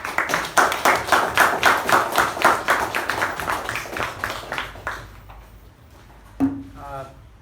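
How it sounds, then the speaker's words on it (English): At a Toastmasters club meeting, the room claps for the presiding officer. The applause starts with rhythmic, distinct claps, thins out and stops around five seconds, then a voice begins speaking near the end. "with a thunderous round of applause"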